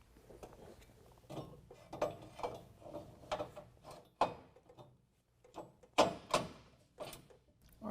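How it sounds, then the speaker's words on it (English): Factory hardware bolts are tightened on a Ranch Hand Summit Series grille guard front bumper on a 2020 Ram, giving close, irregular bursts of ratcheting clicks and metallic knocks with short gaps between them. "We can use our factory hardware to tighten it up."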